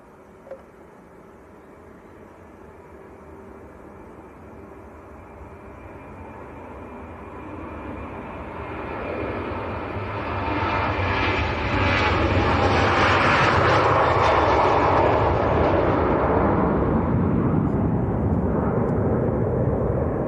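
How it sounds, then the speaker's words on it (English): Jet2 airliner taking off from Leeds Bradford Airport, its engine roar building steadily from a distant rumble to a loud, broad jet wash that peaks and holds as it passes, with no talking. "Jet 2 on the roll."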